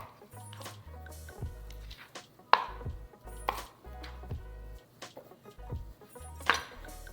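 A knife chops vegetables into big pieces for bulgogi kabobs on a cutting board, giving about a dozen crisp, close thuds in an irregular rhythm over a low, steady background.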